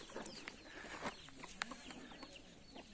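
Wyandotte hens and a young rooster cluck in a coop, giving soft intermittent calls with a few sharper peaks over steady low background noise.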